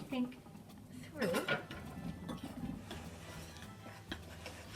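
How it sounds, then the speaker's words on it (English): Metal spoon clinking and scraping around a bowl while mixing flour, yeast, sugar and salt, with a cluster of sharper knocks early on and softer scraping afterwards, quiet and close, with faint room noise. "I then need a spoon to mix everything through"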